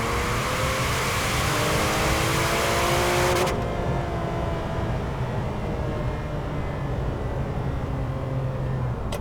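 A Ferrari 456 GT with its V12 engine accelerates hard, a loud rising roar climbing through the gears, then it drops to a steadier, lower cruising drone heard from inside the car.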